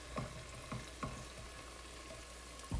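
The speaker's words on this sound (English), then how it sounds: "just browning it up until the onion gets a little soft" Onion and minced ginger browning in a soup pot, a steady low sizzle with a few soft stirring clunks spaced through it and a louder knock at the end, heard alone without talk.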